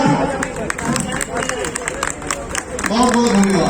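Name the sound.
applause for a gift presentation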